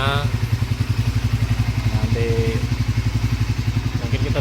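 A motorcycle engine idles after a battery replacement, a close, loud, steady rhythmic putter with fast regular pulses, and a brief higher tone rises over it partway through.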